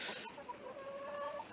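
A hen clucks in a short, quiet burst of throaty farmyard calls, close by and alone.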